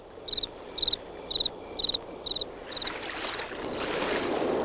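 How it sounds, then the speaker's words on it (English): A cricket chirps in regular short bursts, about six evenly spaced trills, over a soft wash of flowing water that grows louder toward the end. "The crickets, the water, the wind in the trees."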